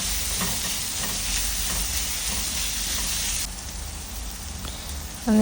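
Onion sautéing with salt in a pan for prawn rice, a steady loud sizzle with stirring scrapes throughout, dropping slightly in level partway and ending with a brief clatter.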